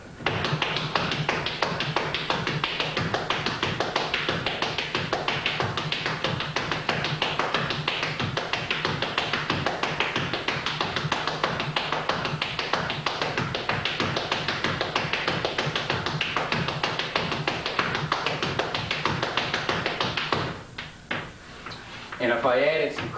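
Flatfooting dance footwork with crosses makes a continuous, busy rhythm of foot taps and scuffs on a wooden floor, played loud and steady for about twenty seconds before a brief quieter stretch.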